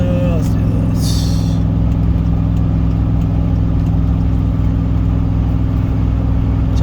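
A Chevrolet Silverado 1500 with the LQ9 6.0 V8 labours up a 7% grade towing 6500 lbs, a loud, steady low engine drone with road noise throughout and no talk.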